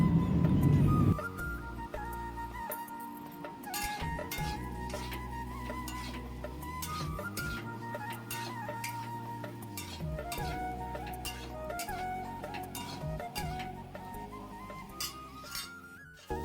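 Papaya and potato pieces with turmeric stirred in a pan, a run of light scrapes and clicks over a soft sizzle, with a steady tonal hum behind them throughout.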